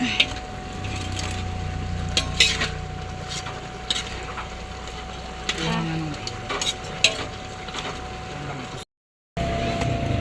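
Hab-hab noodles being stirred in a frying pan, with a steady sizzle broken by repeated scraping and clinking of the utensil against the pan.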